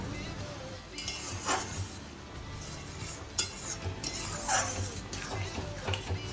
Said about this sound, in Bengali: দই দিয়ে ভালো করে নাড়াচাড়া করতে হবে।